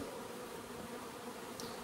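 Honey bees buzz steadily in a hot room used for extracting honey, a faint continuous drone with no talk over it.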